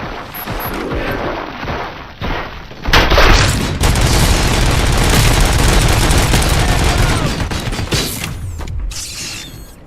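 Loud bursts of gunfire and heavy booms from the video game RoboCop: Rogue City: a rapid fusillade with mechanical clatter and crashes that builds into a sustained barrage before cutting off near the end.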